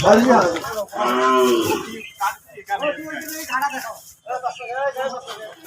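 A cattle cow bought for Eid al-Fitr 2025 moos loudly and close in its shed, one long drawn-out low call, followed by softer vocal sounds and shorter noises.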